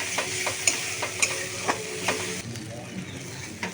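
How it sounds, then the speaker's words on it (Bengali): Tomato and spice paste sizzles and fries in a pan while a spatula scrapes and stirs it in a steady rhythm, close and fairly loud. The sizzling eases after a few seconds as the heat is lowered. "কমিয়ে দিলে তাহলে এটা মশলাটা ভালো করে কষানো যাবে"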